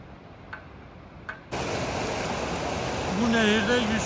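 Steady broadband rush of a river flowing, a source of the river feeding Yusufeli Dam in Turkey, fills the scene after a quiet start, loud and continuous, with a faint voice or tone near the end.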